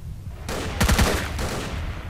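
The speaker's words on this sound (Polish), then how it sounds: "To 3 strzały już." Rifle gunfire in the video game S.T.A.L.K.E.R. Call of Pripyat: a tight cluster of loud shots cracks out over a sustained noisy rumble, with no voices.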